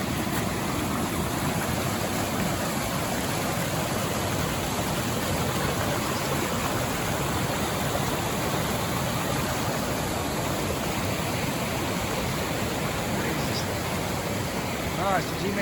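Mountain stream water rushes steadily along a wet hiking trail in the high Sierra, a constant broadband wash of flow that stays even and close throughout with no pauses.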